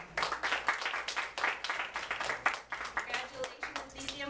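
An audience at a school merit assembly claps for a gold award winner, a steady round of applause that holds for several seconds, with a voice speaking over it near the end.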